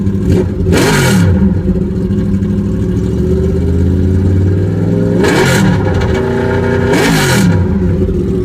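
A 1972 Honda N600 engine running on an open header, loud and close, with a rough steady drone and three sharp revs that rise and fall, and no talking.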